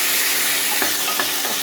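Chopped tomatoes fry with garlic in a pan, giving a steady close hiss of sizzling with a couple of soft stirring scrapes and no talk.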